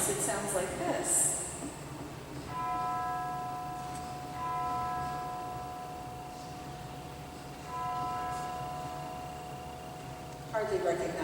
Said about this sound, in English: But if I play it on the chimes,